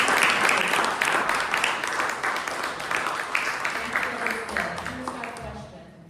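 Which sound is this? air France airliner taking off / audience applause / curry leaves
audience applause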